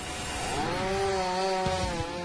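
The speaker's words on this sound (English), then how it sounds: "The chainsaw uses a 35cm cutting chain that rides on gear-like teeth." A giant machine-mounted chainsaw with a 35 cm cutting chain on gear-like teeth slices through wood, giving a steady, loud buzzing drone with a tonal whine throughout, no voices present.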